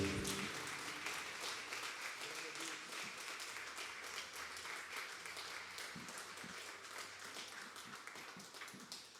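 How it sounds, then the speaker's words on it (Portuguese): A church congregation at an evening worship service breaks into applause, a dense, sustained patter of many hands that fills the room and slowly fades over about nine seconds, with no speech on top. "Aplauda o Senhor Jesus."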